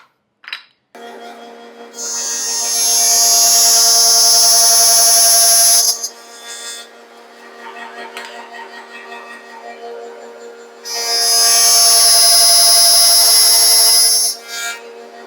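A power tool cuts keyhole slots into a wooden rock-collection display, whining loudly and up close in two long cutting passes with a lower hum between them.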